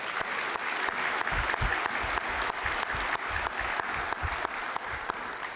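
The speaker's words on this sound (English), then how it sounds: "let's give Isabel a round of applause as well" An audience at a high school senior awards night gives an award recipient a sustained round of applause, even and continuous clapping from a large crowd.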